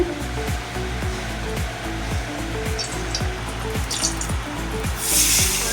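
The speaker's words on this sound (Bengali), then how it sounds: "তেল গরম হয়ে গেছে মাছটা ছেড়ে দিলাম" Koi fish sliding into hot oil in a kadai gives a loud, steady frying hiss that runs the whole time, swelling slightly near the end, with faint tonal sounds underneath.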